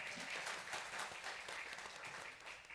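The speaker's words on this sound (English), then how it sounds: "Ladies and gentlemen, a round of applause for Mohammed" Faint, steady applause from an audience at a conference panel on South African ports and provincial strategies, a continuous patter of clapping heard from a distance.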